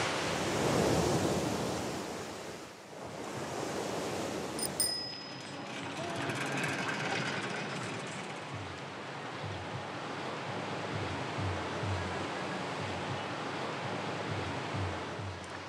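Surf breaks steadily against an atoll's shore on a Caribbean island hit by Cyclone Irma, with a constant loud wash of waves and wind rumble throughout and a brief voice early on.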